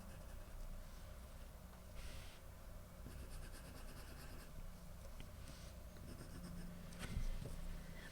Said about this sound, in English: we're going to take some of the ivory pencil and we're just going to shade really lightly just in this small triangle here